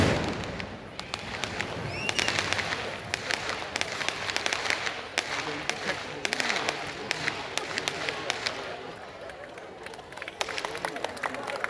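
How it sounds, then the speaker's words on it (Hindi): Green crackers fireworks go off in a rapid, irregular series of sharp cracks and pops, dense and fairly close, with a busy crowd and voices murmuring underneath throughout. "ये जो आतिशबाजी अभी यहाँ देखने को मिली है, ये ग्रीन क्रैकर्स हैं"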